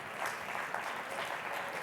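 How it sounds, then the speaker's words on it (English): A conference audience applauds entrepreneurs, a faint, steady patter of many hands clapping from start to finish. "please applaud the entrepreneurs"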